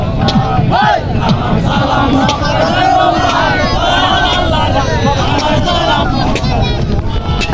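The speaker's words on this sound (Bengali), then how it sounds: "এখানে ভাইয়ারা গান গাইতে গাইতে নৌকো বাইস করতেছে" Men chant and sing together in loud unison while rowing in a boat race, their voices steady and close over crowd hubbub and wind buffeting the microphone.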